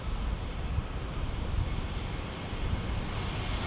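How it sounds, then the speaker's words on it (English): A JetBlue airliner inbound from JFK arrives at San Diego airport, its engines a steady, broad roar that holds loud and even throughout with some wind buffeting the microphone. "Here comes JetBlue from JFK."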